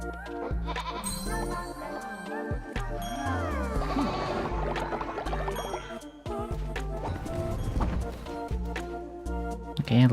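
Sheep bleat in the video game Cult of the Lamb, short wavering cries mixed into busy, steady game music with sound effects, with a voice talking over parts of it.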